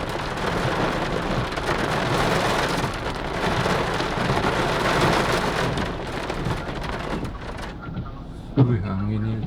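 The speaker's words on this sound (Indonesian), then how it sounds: "Lot of rain." Heavy rain pouring steadily with a broad rushing hiss, close and loud, heard from a car driving downtown on a rainy day, with a voice speaking briefly near the end.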